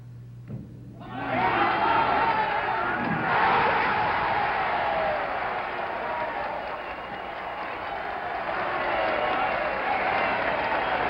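After a bowler's final strike at the 1969 PBA San Jose Open, a crowd bursts into loud, sustained applause and cheering that swells and holds for several seconds, following a brief thud of pins.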